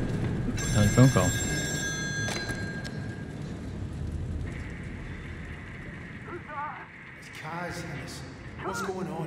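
A telephone rings in the video game Still Wakes the Deep aboard a ship, a thin repeating electronic trill under wind and engine rumble, with someone talking over it.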